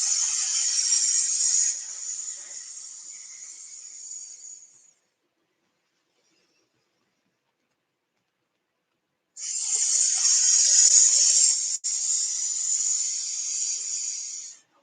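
A person exhales with a long hissing breath, imitating a snake during a gentle yoga session, heard twice as sustained airy hisses separated by several seconds of silence.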